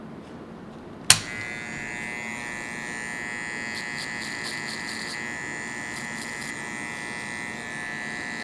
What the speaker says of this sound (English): Now what I like to do is I like to come in with the trimmer to kind of separate that ball line